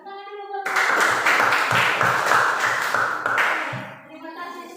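A group of listeners at a class presentation session claps together in a rhythmic, fairly close patter for about three seconds. A voice speaks just before the clapping starts and again as it fades.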